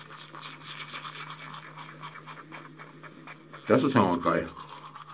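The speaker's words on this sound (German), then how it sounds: "Ich liebe diese vibrierende Zahnbürste. Ja? Die vibriert." A vibrating electric toothbrush buzzes steadily with a constant hum, close and fairly quiet, while a person talks briefly near the end.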